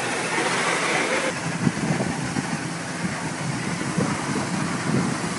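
Gunite is sprayed in to form the beach entry of a custom swimming pool, a continuous loud rushing roar of compressor-driven hose and machinery with irregular thuds, no talking.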